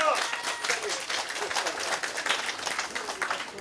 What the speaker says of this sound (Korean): 군인들 박수 안 쳐줘요